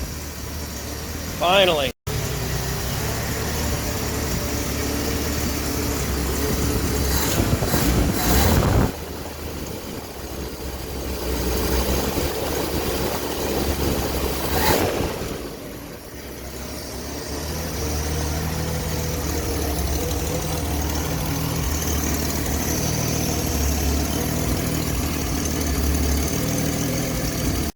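A finished Plymouth Belvedere's engine idles steadily outdoors, a constant low rumble running under wind buffeting on the microphone, with a few people talking briefly nearby.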